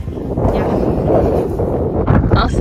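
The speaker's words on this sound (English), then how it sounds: "It's windy, but it's not that cold." Strong wind at an outdoor tulip festival buffets and rumbles against the microphone continuously, a loud, blustery roar throughout.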